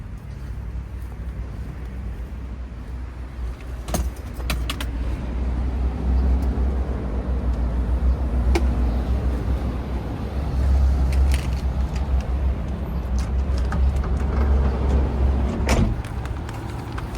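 Steady low engine rumble and road noise fill the inside of a moving car, with a few sharp clicks and rattles from the cabin scattered through, and no talk.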